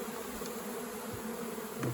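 Honey bees buzz steadily in a swarm trap hive, a dense continuous drone with no voices, close and moderately loud throughout.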